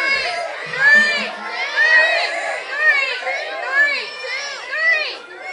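Studio audience at a Dating Game-style show cheering and shouting, excited voices swelling in repeated bursts about once a second over steady crowd chatter.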